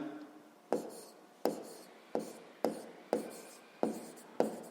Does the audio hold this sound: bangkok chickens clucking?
no